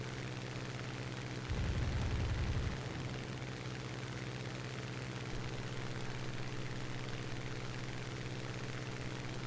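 A tank's main gun fires a salvo in the War Thunder tank battle, a single loud, deep boom lasting about a second, set against steady engine rumble that runs throughout.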